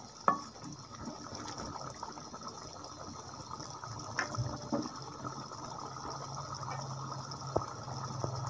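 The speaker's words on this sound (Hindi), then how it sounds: "थोड़ा सा पानी और ऐड करेंगे" Water poured into a pan of chicken liver curry, a close, steady gurgling pour with a few clinks and splashes of the vessel.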